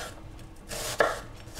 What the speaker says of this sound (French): Une fois que les oignons sont prêts, on va les couper